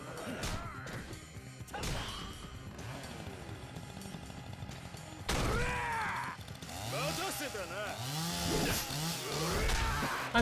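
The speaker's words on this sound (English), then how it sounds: "He's got a chainsaw." In Yakuza 4, an enemy's chainsaw snarls and revs amid loud smashing and thwacking combat impacts, the engine whine rising and falling over a busy game soundtrack.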